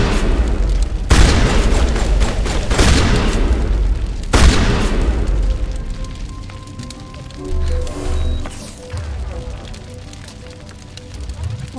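Gunfire in the Mass Effect video game, a few heavy booming shots spaced over the first seconds, loud and close, then quieter rumbling game ambience with occasional thuds.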